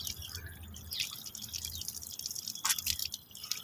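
Water runs and drips to waste, a close, soft patter of drops over a faint flowing trickle, with a brighter splash near the end and no speech.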